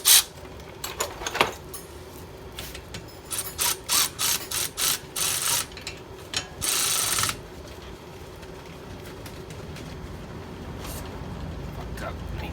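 Wrench ratcheting on the front brakes of a 2016 Range Rover HSE TD6 in a garage, a close series of quick, loud clicking bursts that stops abruptly, followed by quieter shop background.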